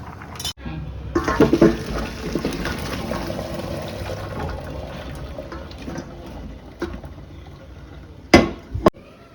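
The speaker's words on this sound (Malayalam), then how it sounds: "ഇതേ നമ്മുടെ കപ്പ തിളച്ചു ഇത് ഊറ്റാൻ പോവുകയാണ് കേട്ടോ" Water gushing and splashing as a pot of boiled tapioca is drained, a steady rushing pour lasting several seconds, ending with a couple of sharp metallic clanks of the pot.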